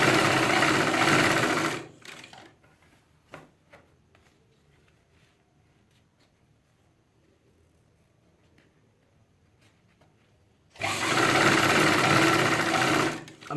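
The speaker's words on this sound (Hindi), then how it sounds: "तो पहले आप सीधी सिलाई चलाएं बस" Sewing machine running a straight stitch on palazzo trousers, two loud, steady bursts of motor whirr at the start and end with a long quiet pause between them.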